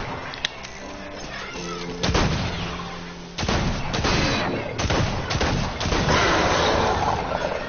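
Rapid gunfire from shooting zombies in a co-op video game, loud bursts and cracks layered into a dense, continuous barrage with a few heavier booms, running throughout.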